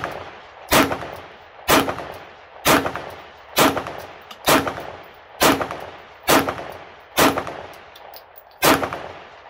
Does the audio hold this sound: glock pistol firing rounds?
yes